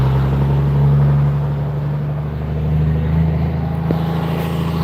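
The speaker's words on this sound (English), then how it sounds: "all right, here's the final dyno pull." An 1800 HP compound turbo Cummins engine on a dyno in a full pull, a loud, continuous heavy drone with a steady low rumble that slowly rises and holds, heard close with no talking.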